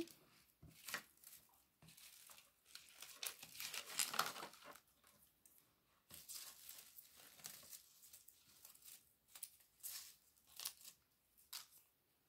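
Scissors snip and crinkle through paper while a handmade card is cut, a quiet series of short irregular cuts and rustles close by, with no talking.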